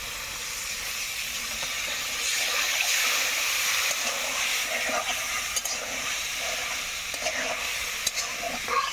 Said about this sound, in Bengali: অল্প একটু জল দিয়ে কষিয়ে নেব মশলাটা।